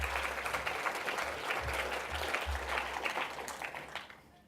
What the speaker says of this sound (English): And do they get an applause?